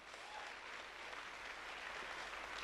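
An audience claps loudly and steadily at a speech, a dense, even wash of applause that holds for the full length without any talk.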